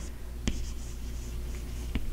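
Marker or chalk writing on a board during an Arabic grammar lesson: faint, continuous scratching with two sharp taps as the writing tool strikes the surface. No one speaks.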